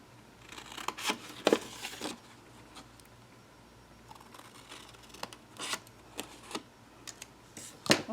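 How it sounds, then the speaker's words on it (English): Close scissors snipping out paper tabs for an embellishment book box, with scattered crisp cuts and soft rustling spaced irregularly through a quiet room. "And you're going to cut this one out."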